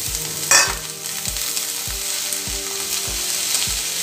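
Chopped capsicum and carrot land in a hot frying pan with a sudden loud burst of sizzling that settles into a continuous close, bright fry, with soft rhythmic low thumps beneath.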